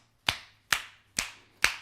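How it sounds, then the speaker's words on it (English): Four single hand claps, evenly spaced about half a second apart, each a sharp close crack with a short decay in a quiet room, made while demonstrating a loose, mobile-wrist clapping technique. "So if I clap,"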